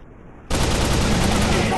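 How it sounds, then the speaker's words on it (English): Sustained broadband gunfire from Commando Secret Mission, an Android first-person shooter, bursts in abruptly after a quiet start and roars on loudly and continuously to the end. "I'm shooting these fools up."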